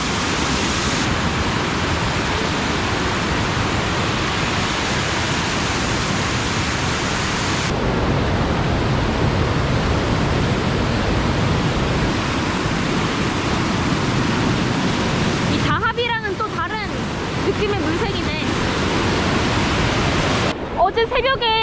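Rain-swollen water rushes loudly and steadily through Plitvice Lakes, a broad continuous roar close by; people speak briefly near the end over the torrent.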